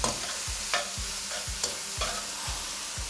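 Onions and mushrooms frying in a pan on medium-high heat, a steady close sizzle broken by rhythmic scraping stirs about every half second, with no voices.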